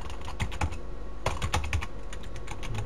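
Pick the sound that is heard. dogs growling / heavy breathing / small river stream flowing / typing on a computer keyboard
typing on a computer keyboard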